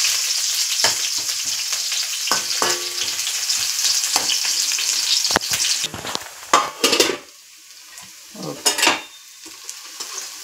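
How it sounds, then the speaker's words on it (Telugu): Onions fry in a tablespoon of hot oil with a steady broadband sizzle, joined by a few spatula scrapes and stirring knocks that grow more distinct as the hiss thins toward the end; no voices. "ఆయిల్ కొంచెం వేడైన తర్వాత ఆనియన్స్ వేసుకుందాం. ఆనియన్స్ కొంచెం వేగిన తర్వాత"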